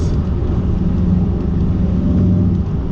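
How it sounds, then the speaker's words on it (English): A Dodge Challenger Hellcat's supercharged engine drones loudly from inside the cabin, a dense steady low rumble with a faint sustained whine held throughout. "The thing that I love is this supercharger whine."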